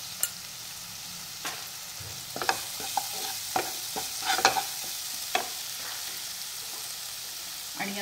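Red chili powder and turmeric fry in hot oil for garlic spinach dal, giving a soft steady sizzle with scattered scraping stirs and clinks of a spoon against the pan.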